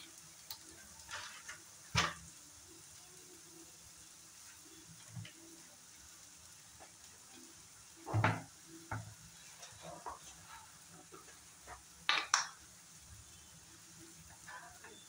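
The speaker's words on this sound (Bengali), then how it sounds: "আবার একটু সময় ভালো করে ফ্রাই করে নেব" Ingredients for lati paturi fry in a pan with a constant soft sizzle, broken by a few louder stirring scrapes and clatters at irregular moments.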